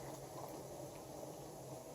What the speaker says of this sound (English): this batch right here is processing, it'll take about 35 minutes to process in the water bath canner